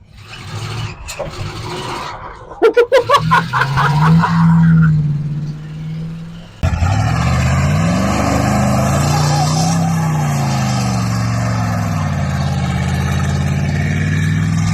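A 1985 Oldsmobile Cutlass engine pulls in first gear, rising through a few quick revs and a sustained climbing drone, then a sudden louder steady run with a shifting pitch, close and continuous.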